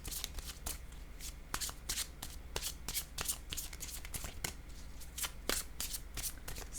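Tarot cards shuffled by hand during a reading, a rapid run of crisp riffling flicks and slaps at close range, then cards drawn, with no voice over them.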